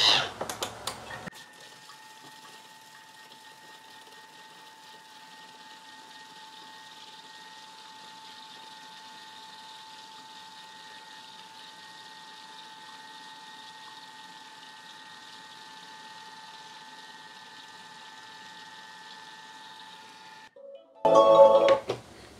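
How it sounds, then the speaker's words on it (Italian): Thermomix (Bimby) food processor motor running steadily at speed 4 while making red mayonnaise, a sustained even whir with a constant tonal hum for about twenty seconds, bracketed by brief handling clatter at start and end. "azionare il bimby per un minuto. A velocità 4"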